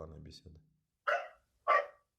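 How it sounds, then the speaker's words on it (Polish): A dog in a video game gives two short, sharp barks about half a second apart, after a brief moment of speech at the start. "Pies szczeka, prawda?"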